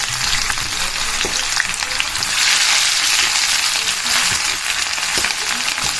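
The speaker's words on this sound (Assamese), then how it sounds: "পাঁচফোৰণ দিছোঁ, কাটি থোৱা এনেকৈ পিঁয়াজ দিছোঁ" Onions and panch phoron fry in hot oil in a pan while a chickpea curry is cooked, giving a steady, close, continuous sizzle with faint crackles and no voices.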